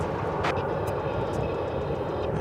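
A jet airliner rolls past at DFW Airport, its broad, steady engine roar filling the whole stretch at close range with no voices over it.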